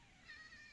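A domestic cat gives a faint, thin meow once, drawn out briefly against steady background noise.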